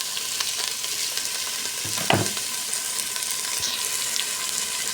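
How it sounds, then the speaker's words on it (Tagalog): Clams (tulya) hitting a hot frying pan of sautéed tomatoes, a brief burst of sizzle near the middle over steady frying crackle and stirring, fairly close with no voices. "At lagyan na natin yung tulya."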